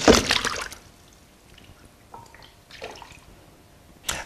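Water in a tsunami wave tank demonstration is displaced from above: a loud splash at the start, then faint sloshing and trickling, and another brief splash at the end.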